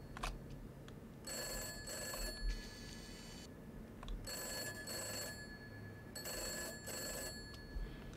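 An old telephone in the game Summer of '58 rings in three long bursts of bright electric bell trilling separated by pauses, over faint background noise.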